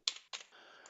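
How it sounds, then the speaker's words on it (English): Two quick bursts of keystrokes on a computer keyboard while entering a new patient's details into appointment booking software, close and fairly quiet, with no talking. "I hit the plus button and type them in."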